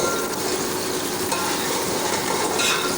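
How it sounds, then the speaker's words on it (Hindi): Onions fry in a pan for chana dal chawal, browning toward golden with a loud, continuous sizzle and the scrape of stirring throughout. No voices. "इसके बाद हम इसमें प्याज डाल देंगे और प्याज को फ्राई करेंगे।"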